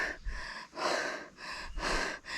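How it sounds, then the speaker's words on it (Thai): Heavy, rhythmic panting from a hiker worn out on the steep climb up Phu Chi Dao in Chiang Rai, with four deep breaths close to the microphone and no talking. "คือทั้งหอบ ทั้งเหนื่อย"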